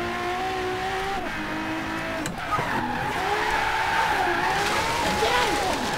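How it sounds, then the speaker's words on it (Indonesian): Tires squeal and skid through a botched drift in the racing game Forza Horizon 3, the engine droning and revving underneath as the slide stretches on and wavers for several seconds. "Gagal ngedrift guys, gagal ngedrift."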